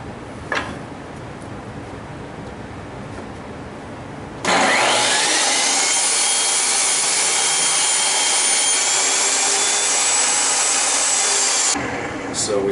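A power saw cuts an oak board to length, a loud steady high-pitched whine that starts abruptly after a few quiet seconds, holds for about seven seconds, then stops.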